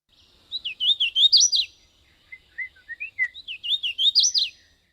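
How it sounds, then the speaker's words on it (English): Hooded warbler song: two clear, sweet, whistled phrases that rise to an emphatic ending, separated by a short pause. The song is near and stands alone against a quiet background. "There's something about the hooded warbler call that's just so sweet and delicate"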